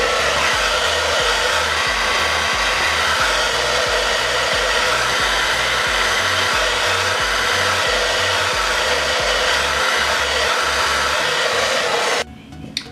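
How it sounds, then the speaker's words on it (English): A hair dryer roars steadily at close range, drying the top of a hair frontal wig, its constant airflow whine broken only at the very end as it shifts and quiets. "Now I'm gonna take the blow dryer again and I'm gonna put it on the top."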